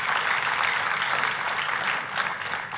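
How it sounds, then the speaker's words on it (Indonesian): Church congregation clapping together in a sustained, dense wash of applause, loud and steady throughout with no talk over it. "Kalau mau tepuk tangan yang paling meriah saudara."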